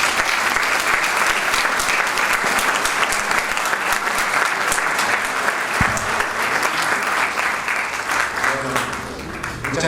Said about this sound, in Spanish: quiero pedir un fuerte aplauso para Miguel Mitre